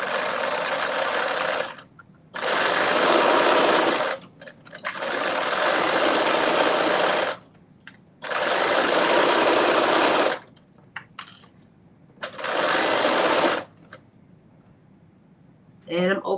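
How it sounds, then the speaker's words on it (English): A sewing machine stitches around the top of a see-through fabric skirt: four loud, steady whirring runs of about one to two seconds each, separated by short pauses with faint handling noise. "I'm going to put a stitch all the way around the top."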